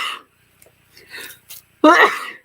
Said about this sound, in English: Oh, I'm going to sneeze next.